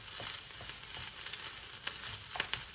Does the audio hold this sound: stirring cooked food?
yes